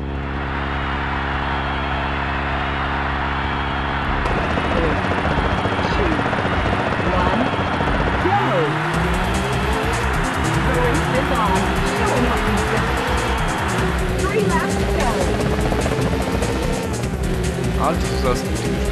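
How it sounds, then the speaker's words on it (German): In the video game Rage Racer, race car engines roar together at the start. After a few seconds of idling, their pitch climbs sharply as the cars accelerate away, loud and continuous. "Racers, start your engines and let's get it on."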